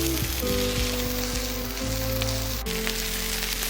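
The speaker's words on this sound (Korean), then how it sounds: "이거 굽고 있는데 아직 덜 익어서" Pork hangjeongsal (jowl) grilling, a loud continuous sizzle and crackle of fat with a steady low hum and faint clinks underneath.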